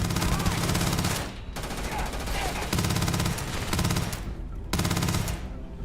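Automatic gunfire in Starfield, sustained rapid bursts from a weapon fired in long strings separated by short pauses, loud and close, with a voice faintly present underneath.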